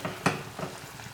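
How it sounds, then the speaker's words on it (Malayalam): Rava vada sizzles as it is dropped into hot frying oil, a short burst of crackling with a sharp splash-like spike followed by softer bubbling, close and moderately loud. "ഇപ്പോൾ എണ്ണ കറക്റ്റായിട്ട് തിളച്ച് വന്നിട്ടുണ്ട് കേട്ടോ. ഇതുപോലെ എടുത്ത് ഇങ്ങനെ ഇട്ട് കൊടുത്താൽ മതി."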